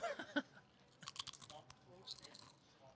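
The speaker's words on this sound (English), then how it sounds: "You can only get that kind of crunch from Tato's" Crunchy Tayto crisps being bitten and chewed up close, with a few sharp crunches and then a run of quicker crackly bites, quiet and alone.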